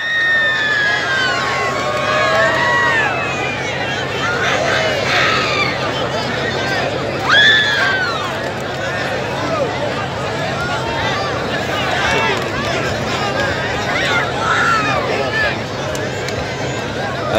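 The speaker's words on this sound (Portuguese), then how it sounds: "A torcida do Real fazendo loucura aqui em campo." A football crowd cheers wildly and shouts after a goalkeeper's penalty save in a shootout between Arranco FC and Real FC, with loud babble and whistling through the whole stretch and a commentator talking over it.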